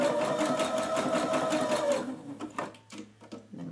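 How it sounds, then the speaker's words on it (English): Sewing machine running a zigzag stitch to reinforce a seam on a shirt extender, a loud close steady whir for about two seconds, then stopping into shorter stitching bursts and handling clicks. "And I'm gonna reinforce this with a zigzag stitch back and forth."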